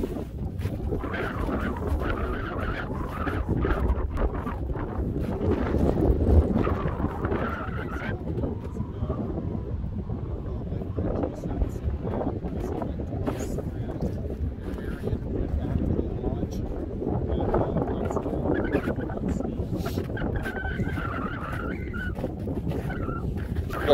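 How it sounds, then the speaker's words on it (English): Wind gusting across the Utah mountains during a snowmobile ride, a continuous loud rushing roar buffeting the microphone, with people talking over it. "The wind is like literally what you get in a stock sound effect, like that ooh, ooh, that type of thing."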